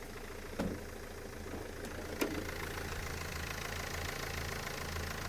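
Nissan Primastar 2013 2.0 diesel passenger van, 115 hp, idling evenly with a steady low hum and faint vibration, heard alone at a quiet level with a couple of small clicks early on.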